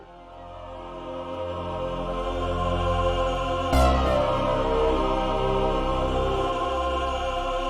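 A laser harp played live sounds as sustained synth tones holding a steady chord, with a bright sweeping swell cutting in partway through and ringing on.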